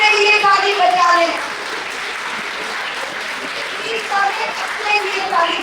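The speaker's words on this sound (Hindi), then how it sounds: "अपने लिए ताली बजा लें।" An audience at a talk on gender, power and violence claps for itself. The applause is steady and fairly loud, lasting several seconds, with a voice and other voices mixed in.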